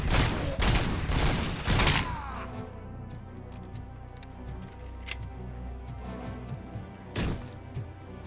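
Gunfire from the video game Robocop Rogue City: a dense, loud burst of rapid shots in the first two seconds, then sparse scattered single shots and a later short burst over a low in-game background rumble.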